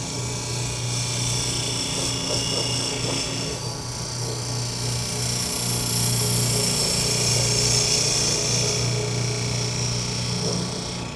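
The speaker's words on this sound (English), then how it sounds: "Now I can use a parting tool to form a tenon to that line 1/4" A wood lathe spins a toothpick dispenser blank while a parting tool cuts a tenon, producing a steady hum with continuous close scraping and hissing from the tool on the wood.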